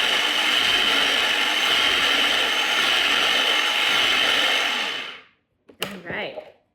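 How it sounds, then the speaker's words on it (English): A Pampered Chef electric food chopper runs in a steady, loud whirring burst for about five seconds while its blade chops food, then stops, followed by a brief clatter. "We're gonna pop it in here and hit our pulse button. Check out how that blade goes up and down"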